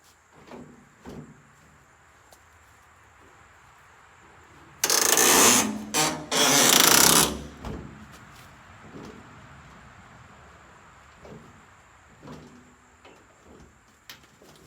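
The rear doors of a crashed 2006 Mercedes Sprinter van are closed: a loud mechanical burst of sliding, latching and clunking lasts a few seconds in the middle. Faint clicks and knocks come before and after in an otherwise quiet space.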